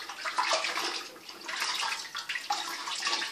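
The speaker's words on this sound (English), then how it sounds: "I'm gonna put it in the hot water" Hot water pours and splashes steadily into a bucket, a close, fluctuating rush that continues throughout with no speech.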